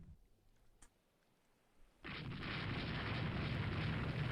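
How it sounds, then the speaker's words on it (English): A torpedo launch or explosion in the naval game Rule the Waves 3: a quiet start, then a sudden loud, steady rushing roar that holds to the end. "Here goes another torpedo."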